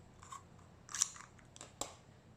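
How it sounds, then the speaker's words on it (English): Metal scissors set down on fabric as a makeshift pattern weight while cutting material: a few soft, brief clicks and rustles, the clearest near the one-second mark and another shortly before two seconds, quiet in a still room. "So I'll put the scissors here, just give some weight here."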